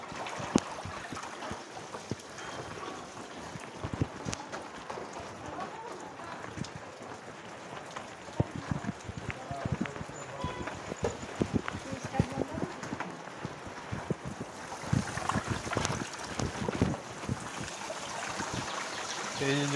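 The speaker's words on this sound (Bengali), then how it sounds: "এই যে জল শুরু হলো" Rain falls outdoors in stormy weather with a constant wash of patter and trickling water, scattered drips and small knocks, and a voice talking over it.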